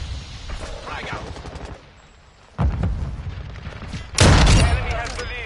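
A frag grenade blast in the video game Modern Warfare 2: a loud, broadband boom bursts out near the end after a louder hit partway through, with game chatter and voices running underneath.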